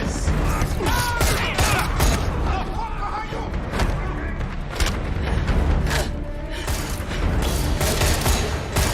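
A gunfire ambush in an episode of The Expanse, season 4, with dense, loud volleys of shots and heavy booms running throughout while voices shout over the battle.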